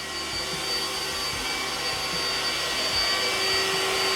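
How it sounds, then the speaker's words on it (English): A Shark IQ robot vacuum cleaner runs steadily nearby, a constant whirring hum with low rhythmic thumps and shifts as it moves. "Here's a real robot vacuum."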